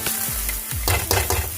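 Onion, ginger and garlic fry in a pan for Manchurian, a loud steady sizzle with a few scraping stirs and low clatter, close and without voices.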